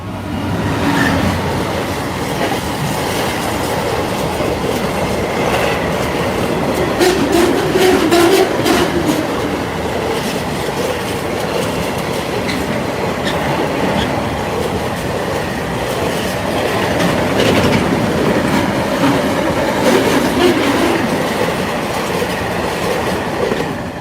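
Freight train bound for Felixstowe rolling steadily past the Metheringham level crossing, a loud sustained rumble of wagons with rhythmic clickety-clack and faint wheel squeal, close by and continuous throughout.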